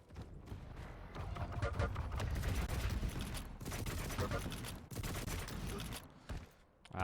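Rocket launcher fire and explosions during a Quake match, with a fast, dense stream of blasts and impacts heard continuously under a busy game mix, briefly dipping before it picks up again.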